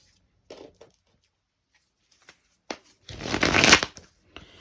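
Tarot cards are handled with a few light taps and slides, then a brief, close riffle shuffle bursts for about a second before falling quiet; no one speaks.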